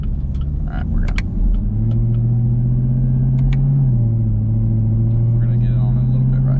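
A new ZL1 Camaro fitted with a cold air intake runs with a steady, loud engine drone whose pitch climbs and holds as the supercharger whine builds, with a voice talking briefly near the start.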